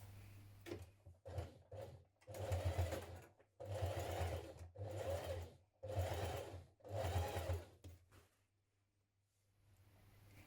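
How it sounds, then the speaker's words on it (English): A sewing machine edge stitches around a pocket on dungarees in several steady whirring runs separated by short pauses, close and moderately loud, finishing with a few light clicks before falling quiet. "now we're going to edge stitch around your pocket"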